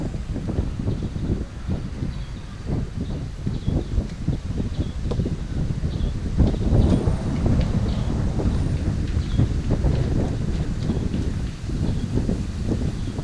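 A light wind gusts in the town of Saint-Félix on Menorca, buffeting the microphone with low rumbling bursts, while faint rustling runs throughout.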